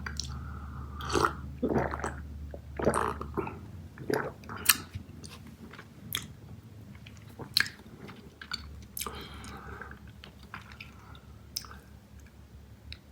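Cow Tales Minis strawberry smoothie candy is chewed slowly and close up, giving soft wet squishes and small smacks in an irregular rhythm, with occasional louder bites and brief quiet murmurs at the start.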